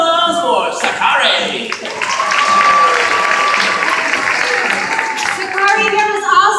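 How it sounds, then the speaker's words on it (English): An audience at a Mystic Aquarium sea lion show breaks into loud, sustained applause and cheering close by, with a crowd murmur mixed in. "Give a huge round of applause for Sakari."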